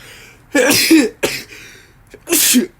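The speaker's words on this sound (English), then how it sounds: "Hold up, I need to sneeze, bro." Three abrupt bursts of breath, the first two close together and a third after a pause, loud and near, sounding more like coughs than a clean sneeze.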